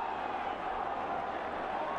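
Dense crowd roar and cheering fills the air as Gaelic football fans surge onto the pitch after the Dublin versus Longford O'Byrne Cup final, a steady wash of massed voices with no gaps.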